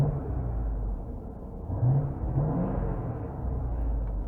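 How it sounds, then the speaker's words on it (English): A Jeep Grand Cherokee Trackhawk engine revs up and eases back in a couple of low, rising swells over a steady interior rumble, heard from inside the cabin. "Like say I rev the engine right now"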